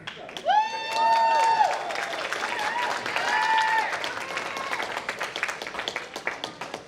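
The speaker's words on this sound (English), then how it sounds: "You two little girls are going to give some special clapping." Audience applause at a California district dairy princess ceremony, scattered clapping across the room with whoops and cheers on top, moderately distant and mixed with crowd voices.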